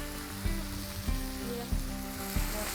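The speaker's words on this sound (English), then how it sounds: "We're cooking this bacon on about a medium heat." Bacon sizzles steadily on a Blackstone griddle over medium heat, a constant close hiss with soft periodic thumps, no voices.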